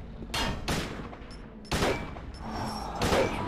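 Gunfire in the survival horror game Silent Hill 2 as a pistol is fired at Pyramid Head: three sharp, loud shots spaced about a second apart, each with a short ringing tail over low ambient rumble.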